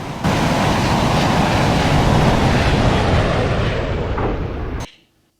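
Missile launch from an F-26 jet in VTOL VR, a loud sustained rocket roar that fills the sound for several seconds at close range, then cuts off abruptly with a brief crack, followed by near silence.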